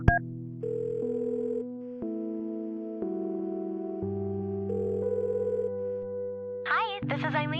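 Phone dialing in the point-and-click adventure Kathy Rain: a run of steady synthetic tones stepping from pitch to pitch, each held about a second, followed near the end by a short burst of brighter warbling tones.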